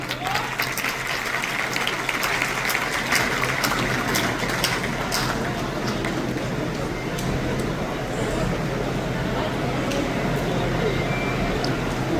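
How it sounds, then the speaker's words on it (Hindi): An audience at a success orientation program in Patna claps in a dense, steady round of applause that goes on for about twelve seconds in an indoor hall. "एक जोरदार ताली।"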